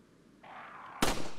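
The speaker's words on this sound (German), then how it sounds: "Ich baller einfach meine ganzen Schuss schon durch die Gegend." A single sharp, loud gunshot blast from the Resident Evil 4 video game cracks out near the end, preceded by a steady hiss of in-game background noise.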